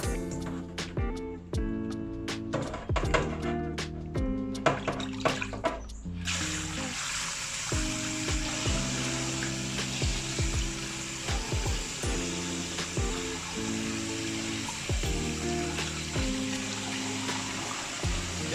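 Pork bones being washed under a running kitchen tap, with a steady broadband water rush that starts partway through. Knocks and clatter of bones and pans come before it and continue over it, and no one speaks.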